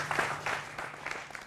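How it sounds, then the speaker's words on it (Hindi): A TV news debate studio audience breaks into short, uneven applause, a few claps coming in quick bursts at moderate volume over a faint low hum. "जोरदार तालियों से सभी का अभिनंदन है।"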